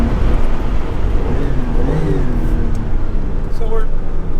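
A 1995 Porsche 911 (993) Cabriolet drives along, its engine and road noise a steady, loud rumble throughout, with someone talking over it.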